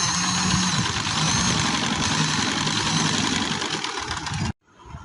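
A sewing machine stitches a V-shaped overlap neckline on a kameez, whirring quickly and evenly close by for several seconds before it stops abruptly.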